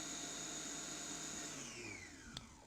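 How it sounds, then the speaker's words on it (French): A stand mixer beats baba au rhum dough with a steady, droning motor whine that slides lower in pitch near the end as it slows to a stop. A faint tap follows. "je vais arrêter le batteur pour que vous puissiez voir"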